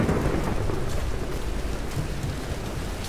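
Thunder rolls over steady rain in the video game Tomb Raider, a loud rumble at the start easing into a continuous wash of rainfall and wind.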